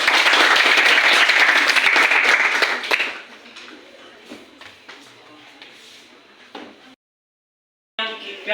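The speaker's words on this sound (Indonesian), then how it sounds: "Tepuk tangan lagi sekali." Students in a classroom clap together in a brisk burst for about three seconds, then the applause thins to scattered claps and shuffling before a short silence and a brief return of noise.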